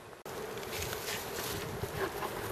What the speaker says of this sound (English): The handling of bees.